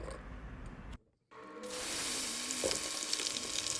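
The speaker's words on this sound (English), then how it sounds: "Place your seasoned cassavas in a bowl and let's get to frying some more." Seasoned cassava chips fry in hot oil with a steady, close sizzle and hiss that briefly drops out and then returns louder, with occasional stirring.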